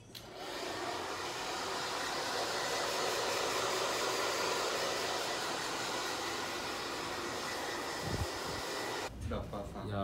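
Salon hair dryer blowing a steady, loud, broadband roar while drying hair, running continuously for about nine seconds before cutting off abruptly near the end.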